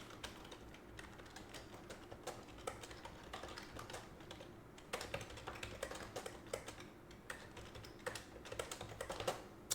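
Typing on a computer keyboard, steady quiet clicking keystrokes with irregular rhythm and occasional louder taps over a low background hum, with no talking.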